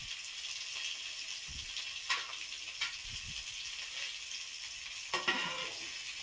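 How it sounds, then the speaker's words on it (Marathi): Bangda mackerel fish fry in a pan with a steady, quiet sizzle, broken by a few soft clinks and stirring knocks against the pan at close range. "इकडे बांगडे फ्राय होतात."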